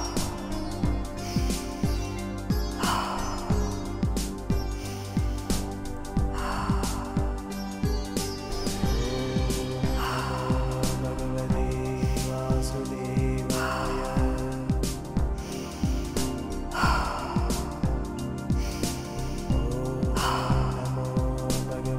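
Fast, rhythmic breathwork breathing, with sharp inhales and exhales repeating every couple of seconds over steady background music, and no speech.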